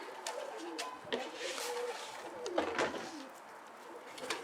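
Pigeons in a flock coo softly in a low, continuous murmur, with sharp clicks and light rustling throughout and someone talking quietly nearby.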